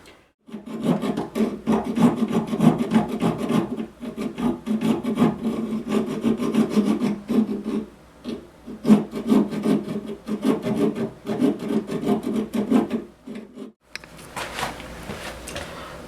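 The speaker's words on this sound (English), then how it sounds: "After I scored a line all the way around with the hacksaw" A hacksaw rasps back and forth while scoring a groove around a metal shaft, with fast steady strokes broken into bursts by brief pauses, loud and close, and no talk.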